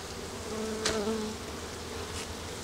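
Honeybees buzz around a hive in an attic, a steady, close drone with one louder insect swelling past near the middle.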